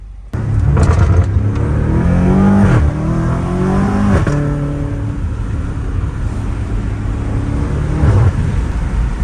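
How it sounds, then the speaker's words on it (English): A loud BMW M5 Competition engine with new downpipes revs up hard, climbing in pitch, then drops with a quick gear shift and keeps pulling with a turbo whine. "you can just hear the turbos"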